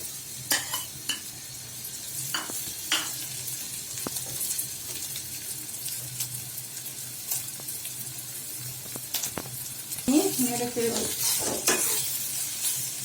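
Chicken with ground spices such as bay leaf, cumin, cardamom and clove stirred and fried in a pan for a pizza topping: a steady sizzle broken by frequent close spatula scrapes and clicks, no speech.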